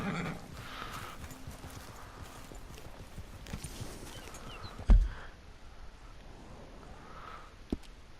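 A horse in the video game Red Dead Redemption 2 clip-clops along at a gallop with a whinny and snorts, one heavy thump midway, moderately loud with no talk.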